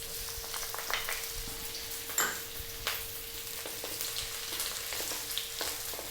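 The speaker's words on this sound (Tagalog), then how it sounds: "hihintay lang natin mag light brown yung ating garlic at maluto ng konti yung ating celery" Chopped garlic and celery frying in oil in a wok, a steady crackling sizzle with a few sharp clinks and scrapes of stirring mixed in.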